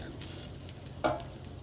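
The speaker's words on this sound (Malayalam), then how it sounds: "ഇനി ഇത് നല്ലതായിട്ടൊന്ന് മിക്സ് ചെയ്ത് കൊടുക്കാം" A grated coconut mixture is stirred in a frying pan for pappadam thoran, making a brief scraping, faintly sizzling stir with one louder scrape near the end.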